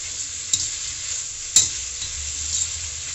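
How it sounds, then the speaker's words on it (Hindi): Onion and capsicum frying in a pan, a steady sizzle broken by two sharp spoon strokes as the pieces are stirred, close and without speech. "यहाँ हम बीच बीच में इसको घुमाते भी रहेंगे, जिससे कि ये इक्वली पक जाए"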